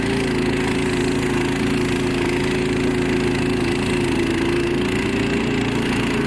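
A Baltmotors motorized tow dog, a tracked snow tractor, runs with a steady, loud mid-pitched engine drone and a constant low rumble, unchanging and close, with no voices.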